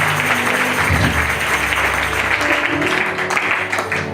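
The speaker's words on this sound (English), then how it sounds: "So give the Lord a clap for him." An audience at a church revival gathering claps loudly and steadily, a dense wash of applause from a large crowd that fills the whole moment without pause.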